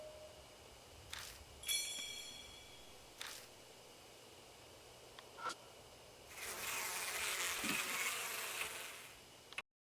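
Bugs buzz in the video game Death Mark, with several brief close buzzing passes at first, then a longer, louder swarm-like buzz near the end over a quiet hum.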